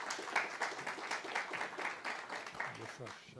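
An audience at an awards ceremony for public-sector innovation gives a presenter a short burst of applause, moderately loud and continuous, thinning out toward the end.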